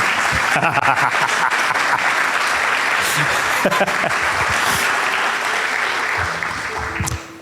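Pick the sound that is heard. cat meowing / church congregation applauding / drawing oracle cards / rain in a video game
church congregation applauding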